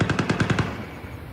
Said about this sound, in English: More gunshots in Rostov